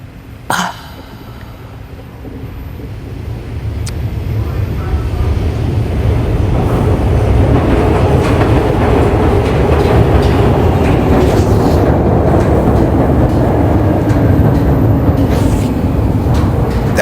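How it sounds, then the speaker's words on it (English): A freight train passes close by as a loud, steady rumble that builds over the first few seconds and then holds at full strength, with metallic rattling on top throughout and no voices. "That's the train."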